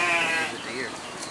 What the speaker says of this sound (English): I think that's a goat that I'm hearing.